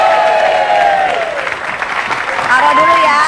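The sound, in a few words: studio audience applauding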